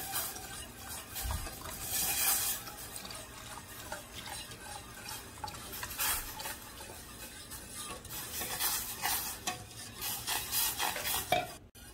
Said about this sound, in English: So I keep whisking and mixing. I'm waiting for the bechamel sauce to thicken.